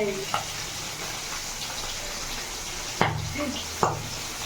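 Fish fries in hot oil with a steady, close sizzle and scattered popping, while a utensil scrapes and knocks sharply against the pan three times.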